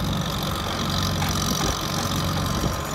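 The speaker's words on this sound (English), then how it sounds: "so that's Robert driving our 65-year-old Super H tractor" A 65-year-old Farmall Super H tractor engine runs steadily, a close, loud low chugging drone with faint knocking throughout, pulling a trailer with no voices.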